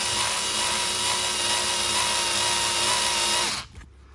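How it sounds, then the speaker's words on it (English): A cordless drill with a weakening battery drives screws into the chassis of an RC DR10M car, whining steadily up close for about three and a half seconds before cutting off abruptly into quiet. "I think my drill's getting flat."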